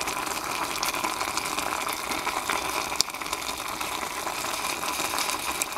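Steady bubbling and hissing of water at a rolling boil in a pot of beef and noodles, continuous and fairly close, with a faint click partway through and no voices.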